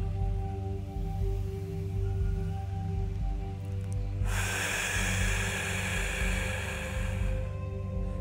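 A long, deep inhalation during a qigong breathing exercise for the 'caress the sparrow's tail' movement: a loud, airy breath lasting about three seconds, set over a steady low musical drone.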